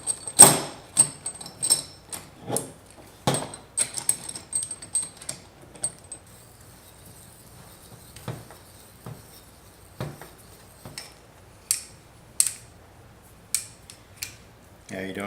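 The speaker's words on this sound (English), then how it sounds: "So just line these guys up and tighten up the bolts." Bolts are tightened by hand on a Steadicam armpost adapter plate, a string of close, sharp metallic clicks and ratcheting taps in irregular bursts with quiet pauses between.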